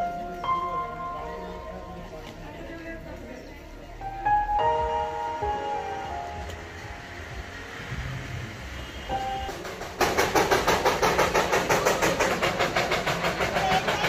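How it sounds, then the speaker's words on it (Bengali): The Darjeeling toy train rolls past in cloud on the hill line, starting as faint distant rumble and clicking, then growing louder as close rhythmic clickety-clack wagon noise fills the final seconds. "টয় ট্রেন এলো মেঘের মধ্যে দিয়ে, আর মিলিয়ে গেল মেঘের মধ্যে দিয়ে"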